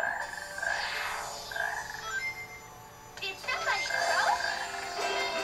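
Frog croaks from the video game Sonic Heroes, a few short tonal calls sounding amid game music and effects, with a voice talking over parts of it.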